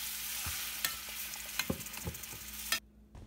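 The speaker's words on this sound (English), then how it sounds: "Now add grounded coriander paste and mix it very well." Ground coriander paste is stirred into coriander thokku in a hot pan: a constant sizzle punctuated by sharp scraping clicks of the spoon, ending abruptly in near silence.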